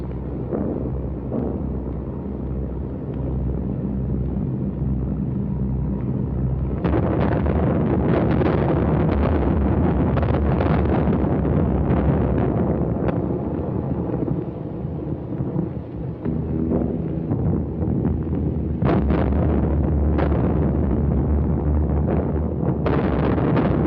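A wartime bomb blast in London during the Blitz lands as a deep, heavy rumble that swells abruptly partway through and then rolls on with a roaring, wind-like boom.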